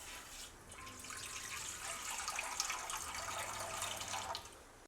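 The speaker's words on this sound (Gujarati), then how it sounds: "તો ગેસ પર કઢાઈમાં પાણી ઉમેરશું" Water runs steadily into a kadai on a gas stove in a home kitchen, a soft continuous pour that stays fairly quiet and unbroken.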